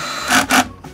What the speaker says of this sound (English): We're gonna take our spade bit and drill through here.